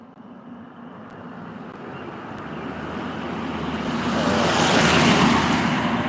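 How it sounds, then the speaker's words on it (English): A single car drives past on a street by fire-damaged buildings, its tyre and engine noise rising steadily from faint to loud as it approaches, alone without speech. "once this car goes by"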